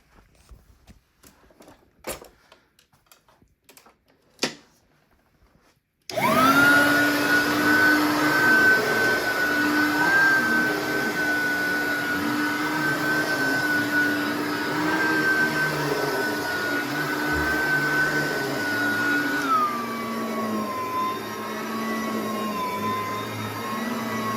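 Serviced Riccar Supralite upright vacuum cleaner: after a few faint clicks and handling knocks it starts up into a loud, steady motor whine and keeps running, its pitch dropping slightly near the end.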